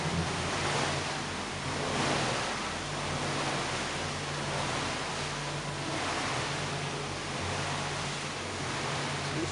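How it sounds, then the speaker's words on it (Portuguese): Machine-made waves churn inside a large aquarium tank in Berlin, a steady, dense wash of rushing water with a low rumble underneath, continuous and fairly loud. "Eles provocam mais ondas artificiais para aparecer meio no mar e o bichinho ficar mais familiarizado."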